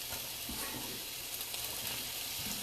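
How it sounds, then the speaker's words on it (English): Onion and celery sizzle quietly in a pot as they are stirred, a soft continuous frying hiss with a few faint scrapes and no voices. "Give that a bit of a stir"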